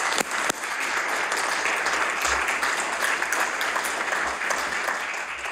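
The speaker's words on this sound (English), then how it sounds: "I'd like everyone to give them more applause." Members of a legislative assembly applaud in a steady, full round of clapping, moderately loud, with a couple of sharp desk knocks or claps near the start.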